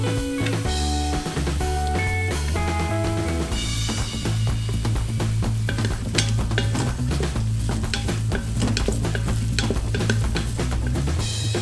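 Soy meat chunks and king oyster mushrooms are stir-fried in a pan, a steady loud sizzle with busy clattering stirring strokes throughout, no voices.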